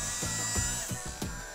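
A bubble gun machine's small electric motor starts up and runs with a steady whirring buzz, pulsing slightly several times over a short stretch, close and fairly loud with no talking.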